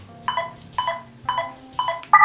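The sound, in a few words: four beeps from lightsaber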